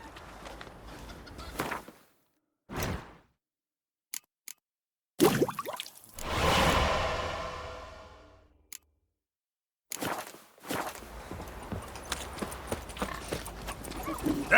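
Roach the horse from The Witcher 3 galloping in a short burst of hoofbeats midway, among intermittent game sounds, brief silences and ambient noise.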